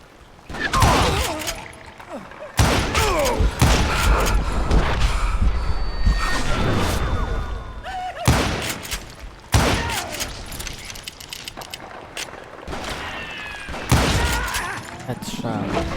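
Gunfire in the Western shooter Call of Juarez: Gunslinger, sharp shots popping in several bursts over the course of the scene, mixed with other game effects and someone talking over much of it.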